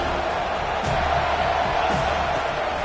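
Stadium crowd at a Clemson at FSU college football game roaring behind the defense on third down, a dense sustained roar with scattered whoops, loud and continuous.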